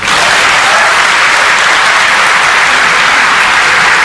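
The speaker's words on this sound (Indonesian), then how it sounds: "Tepuk tangan semuanya ya." Loud, dense applause from an audience at a government labour-agency event fills all four seconds, a steady wash of many hands clapping with no break.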